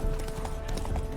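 Roach, the horse in The Witcher 3: Wild Hunt, is spooked by ghosts. Hooves clop rapidly and a whinny rises over a low ambient rumble, all heard at a moderate distance.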